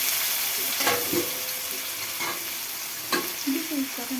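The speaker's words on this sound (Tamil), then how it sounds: "பிறகு ஆனியன், வெங்காயம், தக்காளி, பூண்டு, பச்சை மிளகாய் போட்டு வதக்கணும்" Onion, tomato, garlic and green chili sautéing in a pan for a Tamil cabbage kootu, with a steady close sizzle broken by a few scraping stirs of a spoon.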